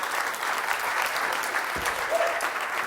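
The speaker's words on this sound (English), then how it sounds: "Round of applause, please." An audience claps for a volunteer, a steady, moderately loud patter of many hands that continues evenly without pause, with a brief thump and a faint voice partway through.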